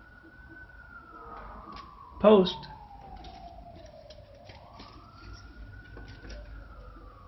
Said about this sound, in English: And when you hear that siren